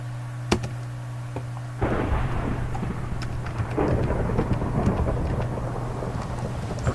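Thunder rolls through a thunderstorm in the Tornado Survival video game: a sharp crack, then a loud, sustained rumble over steady rain and a low background hum.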